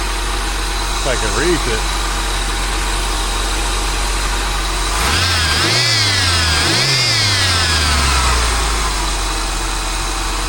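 A Cutlass engine with the hood open revs twice, its pitch rising and falling from a steady idle, close and loud. Brief speech comes before the revs.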